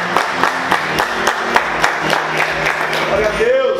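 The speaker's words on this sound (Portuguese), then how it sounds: "Aplauda Jesus muito forte." A church congregation claps in a steady, fast rhythm, the beats running evenly under loud music and voices that fill the room throughout.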